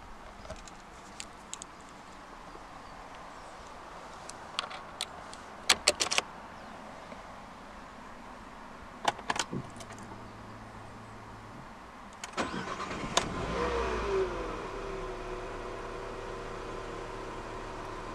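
A 2014 Nissan Qashqai 1.2 DIG-T petrol engine starts after a few quiet clicks and thumps inside the cabin, catching with a brief crank and settling into a low steady idle hum.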